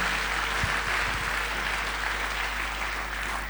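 A church congregation applauds and cheers the Lord during a sermon by Pastor Pierre Kyungu, a dense, steady wash of clapping from many hands filling the hall throughout.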